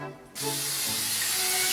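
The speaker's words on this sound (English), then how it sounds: "Spray it with some pan spray." After a brief quiet moment, a can of cooking spray sprays onto a griddle in one long, continuous close-up hiss that holds steady to the end.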